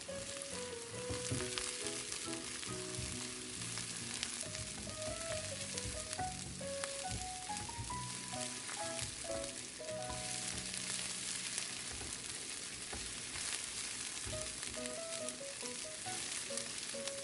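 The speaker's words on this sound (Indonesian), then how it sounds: "Masukkan cabai hijau dan cabai merah, lalu kita aduk sampai layu." Green and red chilies sizzle in a pan while being stirred, a steady close frying hiss with soft scraping, faint background music playing underneath.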